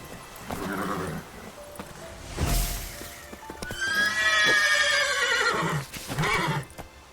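Horse Roach in The Witcher 3 lets out a loud, drawn-out whinny over steady hoof clip-clop, with a sharp thump partway through and further neighing and trotting toward the end.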